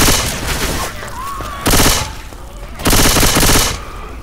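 Rapid automatic gunfire from Left 4 Dead 2 in loud bursts, with two dense sustained volleys standing out over steady game noise and a brief tonal whine between them.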